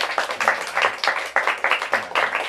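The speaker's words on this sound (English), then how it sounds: "Let's have a round of applause for them" Audience applause for two poets at a book launch reading, a short burst of scattered hand claps with uneven rhythm, moderately loud and without talk over it.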